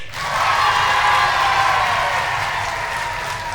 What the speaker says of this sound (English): The clapping of the hands, the stamping of the feet, and the screaming, and they make one big noise.